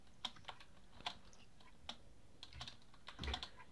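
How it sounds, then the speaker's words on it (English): Quiet typing on a computer keyboard during a Minecraft session: scattered single key clicks and short bursts at an uneven pace, close but soft, with no speech. "I'll just type in the rest in a second."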